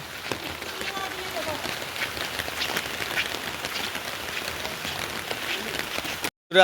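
Steady rain falling during flooding in a Bangladeshi village while a wedding house gate is decorated, a dense even hiss of drops continuing throughout before a brief dropout at the end.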